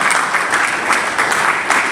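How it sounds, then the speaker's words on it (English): Audience at a home buyers' workshop applauding, close and fairly loud clapping with slightly uneven pulses across a short burst. "Please, another round of applause for her."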